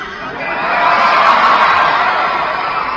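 A large concert crowd screams and cheers in a loud, sustained roar that swells and then holds steady, with no single voice standing out.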